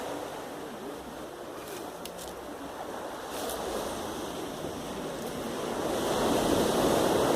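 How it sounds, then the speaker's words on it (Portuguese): Sea waves wash below a sunny hillside trail as a continuous distant surf roar, swelling somewhat louder toward the end, with no voices. "Olha o mar aqui para baixo."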